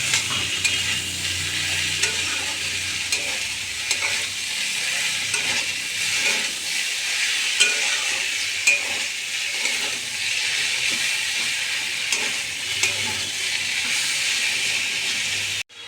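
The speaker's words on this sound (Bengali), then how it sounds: "ঢাকা দিয়ে দিয়ে ভালো করে ভাজতে হবে থোড়টা।" Chopped banana stem frying in a pan for a sweet curry, a continuous bright sizzle and hiss with light stirring scrapes, close up and steady with no talk over it.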